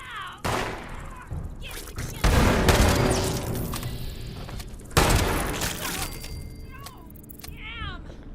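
A grenade explodes in the Fallout 76 video game during a fight with a legendary bloodfly: heavy booming blasts and bursts of gunfire arrive in separate loud hits, then fall away into quieter in-game sounds.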